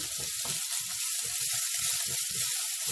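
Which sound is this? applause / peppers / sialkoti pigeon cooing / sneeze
peppers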